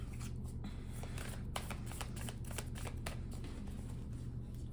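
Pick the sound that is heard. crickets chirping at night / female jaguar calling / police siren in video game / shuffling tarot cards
shuffling tarot cards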